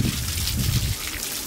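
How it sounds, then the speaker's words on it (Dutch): Shower water gushing out of a showerhead, a loud, broad hiss of spraying water that surges at first, then settles into a steady rush. "check ook even hoe cool deze douche is"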